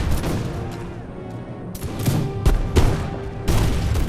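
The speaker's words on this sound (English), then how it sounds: "here's some of my ranger units getting some shots off. And my light infantry is also beginning to get some shots off" Ranger and light infantry units fire muskets in Empire: Total War, a battle between the USA and Great Britain. Loud, overlapping volleys crack out irregularly over a dense rumble of battle noise.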